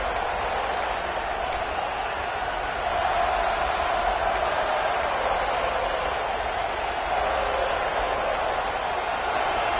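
A large stadium crowd at a football game roars steadily through a tense third-down play in the red zone, a continuous wall of cheering and noise with a brief swell partway through.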